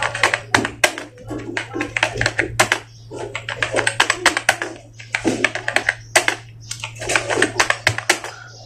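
Someone types Hindi on a computer keyboard in rapid bursts of crisp key clicks with short pauses between runs, close and clear over a steady low hum.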